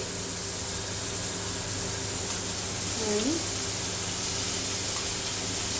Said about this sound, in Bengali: আদা রসুন বাটা দিলাম দিয়ে আবারও কষিয়ে নেব